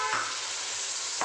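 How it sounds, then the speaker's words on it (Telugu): Tomatoes tipped into a pan of frying masala for mutton chamadumpala pulusu, giving a loud, close, continuous hiss of sizzling oil with a couple of brief scraping touches. "నెక్స్ట్ వచ్చేసి టమాటాలు వేసుకున్నాము."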